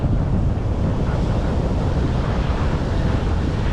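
Outdoor wind by the sea at sunset in St. Petersburg, Florida, roars steadily and loudly, buffeting the microphone, with a continuous rush like surf blended in and no voices.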